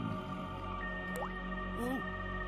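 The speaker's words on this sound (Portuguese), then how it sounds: "ninguém arruma essa encanação dessa casa. Tá pingando." Water dripping from a leaky house plumbing pipe, a couple of distinct plinking drops over a steady background of tonal game music.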